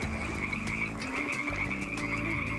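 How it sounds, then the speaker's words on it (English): Red-legged frogs croak in a steady, layered chorus, near and fairly loud, with rhythmic pulsing calls and no voices over them. "We got a frog."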